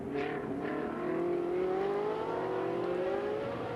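A Ferrari race car in the Coppa Shell series at Hockenheim races on track, its engine rising in pitch through a sustained, moderately loud acceleration with a steady whining drone.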